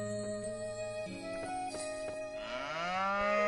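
A cow in the Harvest Moon farming video game moos in long, tonal calls, including a rising, wavering moo near the end, over a light musical backdrop, with no talking.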